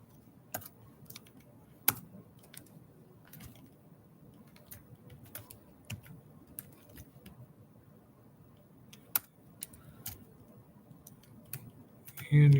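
Computer keyboard typing while writing Java code, irregular light key clicks in short bursts, close and quiet, with a person talking at times.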